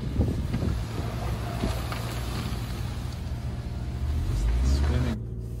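A Tesla's wheels spin on a snowy road, heard from inside as a steady low rumble and rushing noise with a faint rising motor whine near the end before it cuts off.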